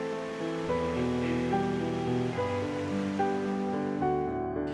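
Water gurgling and flowing down a waterfall stream at Nainital, a continuous full rushing wash with no break from start to end.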